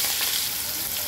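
Boiled potatoes frying in a pan give off a dense, steady hiss of sizzling oil, loud and close with no voices.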